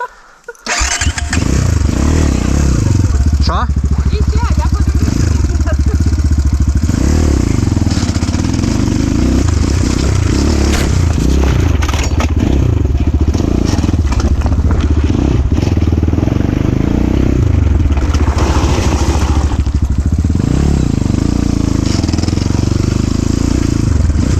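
Loud, close Rottor F1 enduro motorcycle engine starting and then running steadily with revving surges, continuous throughout after a brief quiet start.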